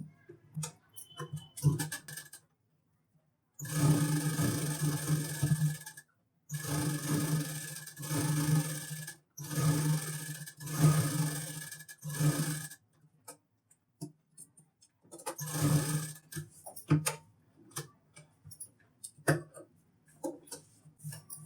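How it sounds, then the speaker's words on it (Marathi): A sewing machine stitches blouse patchwork in several loud, rapid whirring bursts of a few seconds each, separated by short pauses, with faint ticking and handling sounds between runs. "अशा पद्धतीने पाव इंच अंतर ठेवून आपल्याला शिलाई करून घ्यायचं आहे"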